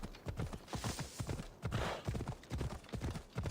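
Horse hooves clip-clop in a steady galloping rhythm in Assassin's Creed Odyssey, loud and close, with the regular beats running through the whole stretch and no talk over them.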